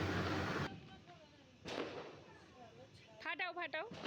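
Firecrackers bursting during Kali Puja celebrations: a loud crack at the start and another sharp burst partway through, each fading out, followed by excited voices shouting.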